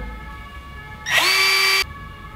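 A cordless screwdriver drill spins up with a sharp whirring motor whine that runs steadily for under a second before cutting off, close and loud over a quiet room.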